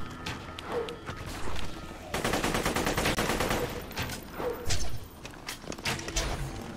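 Rapid gunfire from a weapon in the Tiny Tina's Assault on Dragon Keep video game, dense bursts of shots with a sustained volley in the middle, loud and close over game effects.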